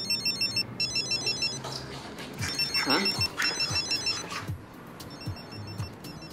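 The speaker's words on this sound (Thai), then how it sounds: "มึงได้ยินเสียงโทรศัพท์เหมือนกูไหมเนี่ย" A telephone rings in repeating electronic bursts, pausing while people talk over it, then resuming faintly toward the end.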